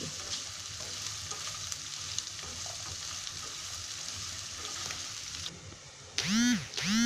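Chopped onion fries in a pan over a high gas flame for a home-style vegetable pulao, giving a steady, close, dense sizzle throughout that ends with a brief rising-and-falling tonal sweep.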